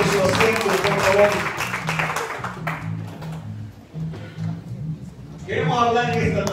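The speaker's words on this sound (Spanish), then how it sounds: "Den un aplauso fuerte, Señor" Church audience applause with loud clapping rising and falling under a voice speaking Spanish, strong at first, dipping in the middle, then swelling again at the end.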